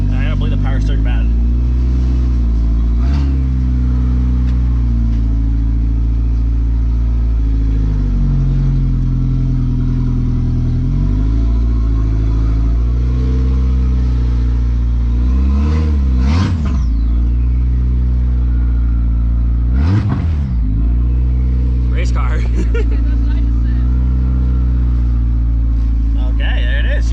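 A turbocharged Golf engine rumbles nearby and revs up in several sharp bursts, with a person talking over the idling motor.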